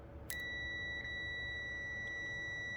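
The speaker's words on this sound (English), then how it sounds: "you hear a beep. So you know you have continuity right here." A multimeter gives its continuity beep as the probes touch, one steady high electronic tone starting abruptly and holding to the end. It is clear and close over a low background hum, with no talk.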